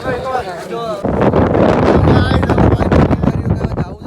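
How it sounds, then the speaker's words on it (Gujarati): Strong wind on the climb up Girnar mountain roars and buffets the microphone, loud and continuous after a brief opening of speech, with voices heard under the gusts. "કેવો જોરદાર પવન છે"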